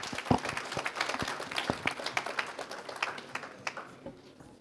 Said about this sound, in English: A round of applause as Eswatini comes up.